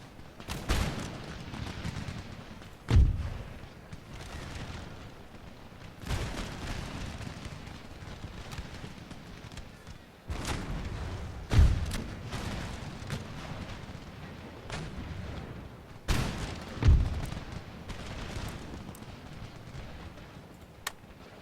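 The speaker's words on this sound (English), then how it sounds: "Oh, lads, keep firing" Troops' volleys and artillery in the Empire Total War strategy game boom repeatedly, with heavy blasts roughly every few seconds over a continuous crackle of distant musket fire and battle noise.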